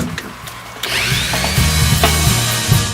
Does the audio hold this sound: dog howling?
no